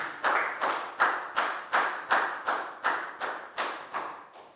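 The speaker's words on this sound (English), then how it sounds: "Big round of applause for Chu." About a dozen evenly spaced sharp claps ring out in a steady rhythm in a classroom, each crisp and close, like slow rhythmic clapping.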